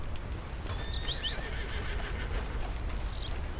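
Horse neighing and whinnying in Red Dead Redemption 2, with clip-clop hooves, a short high whinny standing out over steady background game ambience, with no talk.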